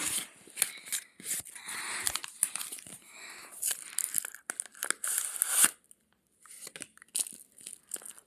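Wrapped surprise package being torn open, close and fairly loud bursts of ripping and crinkling paper in quick irregular spurts, a brief pause, then more rustling.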